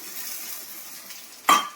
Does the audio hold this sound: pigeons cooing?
no